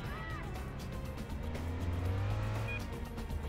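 A police car drives through traffic in the Stuntman video game, with a continuous engine drone that rises into a louder revving stretch midway, plus tire noise and passing cars.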